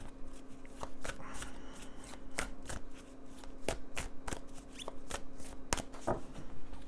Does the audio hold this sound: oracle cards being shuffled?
yes